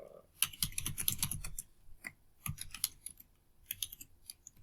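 Typing on a computer keyboard while writing a Python email script, with bursts of quick clicking keystrokes, a dense flurry early, then scattered shorter runs of taps, close and fairly crisp.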